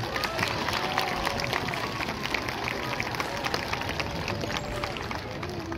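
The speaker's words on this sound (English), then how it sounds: "We'll give him a cheer for Bubbles." An audience cheers and claps at a sea lion show at West Midlands Safari Park, a dense steady crowd roar with scattered claps throughout.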